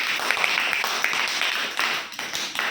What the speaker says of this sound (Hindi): ताली बजाओ जी